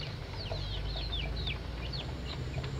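Free-range village chickens cluck softly outdoors, with a quick scatter of short calls over a low, steady background hum.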